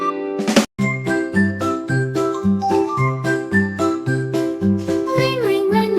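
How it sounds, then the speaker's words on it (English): Bright, sweet bell-like tones ring out in a steady melodic pattern over a bouncy backing beat in a children's nursery rhyme, loud and close, with no talking. "Ring, ring, ring, my bell so sweet."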